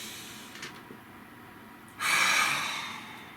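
One deep breath, a long, airy inhale-exhale swell rising sharply and fading slowly, close and alone in a quiet room.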